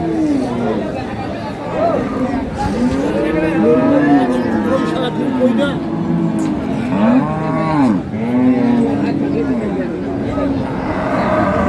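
Dairy cows with calves lowing repeatedly at a busy rural cattle market, several long moos rising and falling over steady crowd chatter and bargaining voices nearby.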